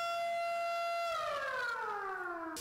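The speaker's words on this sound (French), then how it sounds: "La sirène retentit." Siren at an exam centre in Akpakpa signalling the start of the primary school certificate exam, a single steady wail that then slides downward in pitch as it winds down, heard alone at moderate level.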